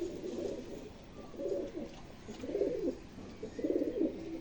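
A pigeon coos close by, four low, soft rolling coos spaced about a second apart over a faint background hum.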